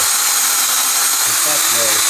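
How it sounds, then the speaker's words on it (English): A power drill bores into a broken bolt sunk in a deep recessed hole, a loud, steady high-pitched whine that runs throughout, close up and without pause. "my purpose is to drill in this broken bolt away in there"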